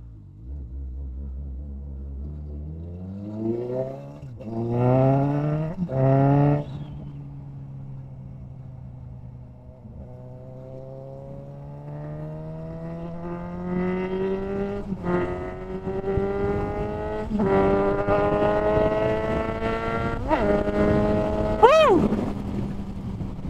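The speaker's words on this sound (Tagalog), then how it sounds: "Nanggigigil yung motor. Napaka-aggressive niya." A Suzuki GSX-S750 motorcycle engine revs repeatedly, rising and falling in pitch with sharp throttle blips and a climbing whine near the end, loud and close.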